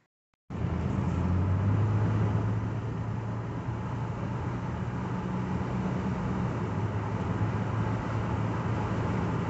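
A Toyota Highlander cruises along a road on a test drive after a transmission fluid change, giving a steady, even hum of engine and tire noise heard from inside the cabin.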